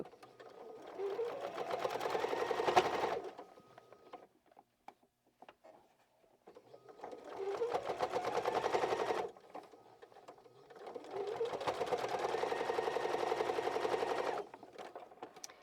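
A sewing machine stitches a full row of puff bag fabric with right sides together. It runs in three steady, close bursts of rapid whirring stitches, each lasting a few seconds, with short quiet pauses between them.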